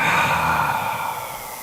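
A single deep exhale let out slowly during a guided breathing exercise, a steady breathy rush that fades gradually over under two seconds, close and fairly loud with no talking.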